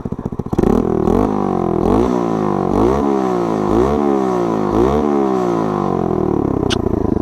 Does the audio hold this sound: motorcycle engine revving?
yes